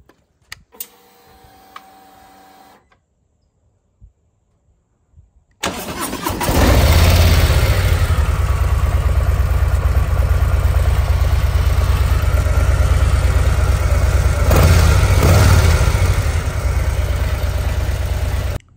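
A Harley-Davidson Softail Lowrider ST with stock exhaust starts up after a few seconds of quiet and settles into a loud, steady, close idle with a lumpy low-end rumble, no voices.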